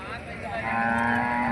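A cow lows at the Gadag livestock market in one long, steady moo, close and fairly loud, over the faint murmur of the crowded cattle market.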